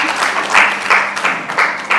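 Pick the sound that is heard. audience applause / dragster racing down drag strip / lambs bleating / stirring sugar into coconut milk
audience applause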